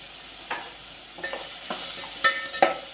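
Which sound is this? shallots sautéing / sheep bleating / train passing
shallots sautéing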